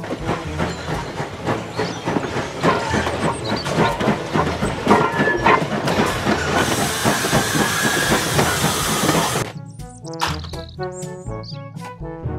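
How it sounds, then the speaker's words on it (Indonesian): A Thomas the Tank Engine toy steam train chugs in a rhythmic chuffing beat with rising hiss of steam, fairly close, before the sound breaks off abruptly. "Kereta Thomas."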